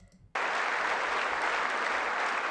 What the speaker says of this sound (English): those people in white stood up for the first time and clapped